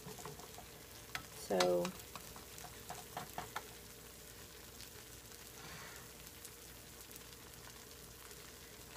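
A grilled cheese sandwich fries in a pan with a soft, continuous sizzle and crackle, faint and close, with a brief tonal scrape or clink near the start and a single spoken word.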